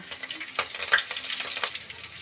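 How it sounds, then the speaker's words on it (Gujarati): Green onions sauté in a pan with whole spices, producing a steady close sizzle with crackles, punctuated by a few stirring scrapes and no speech. "હવે આપણે લીલી ડુંગળી સડવાઈ ગઈ છે"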